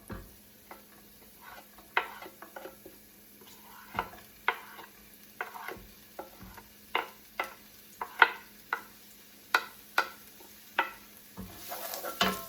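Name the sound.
carrot and onion sautéing in a pan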